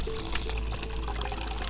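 Wine pours steadily into a pot with sugar for poaching peaches beside a wood-fired oven, a close, continuous splashing stream heard without speech over a low background rumble.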